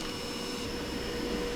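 A Dreame X50 Ultra robot vacuum runs steadily on carpet while picking up dog food, giving a continuous close motor whir and suction hiss with no voices.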